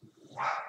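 A single muffled dog bark rises briefly over a low background rumble, sounding somewhat distant.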